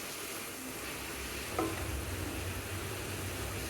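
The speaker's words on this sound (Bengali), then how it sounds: "নেড়ে চিড়ে হালকা হালকা নেড়ে এইভাবে বাজি করব" Tender green leafy vegetables stir-fry in a pan with a soft, continuous sizzle and a brief clink of utensil partway through, fairly quiet and close, with no talk.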